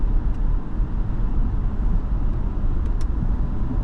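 2010 Jaguar XF 4.2 accelerating on the road, a constant low engine and road drone heard from inside the car, steady and fairly loud with a couple of faint ticks, no voices.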